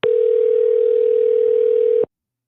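A single long, steady telephone tone holds loud and unbroken for about two seconds, then cuts off into silence, heard alone while a call waits for an answer.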